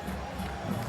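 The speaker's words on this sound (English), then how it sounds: "And this crowd can't believe it." Basketball arena crowd at a EuroCup playoff game in Vilnius reacting in disbelief to a no-call, a dense, steady roar of many voices filling the hall without a break.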